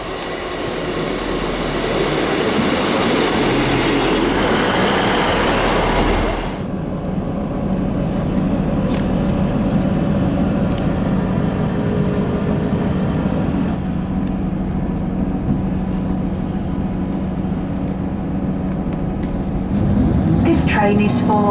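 A passenger train bound for Doncaster travels with a steady, loud rumble of wheels and carriage noise heard from inside. The tone shifts partway through, and some squeal comes near the end.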